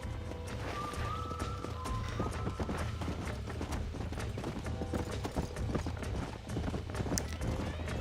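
Horse galloping in the Red Dead Redemption video game, fast rhythmic hoofbeats pounding steadily over outdoor ambience, with a brief tonal sound early on and no talk.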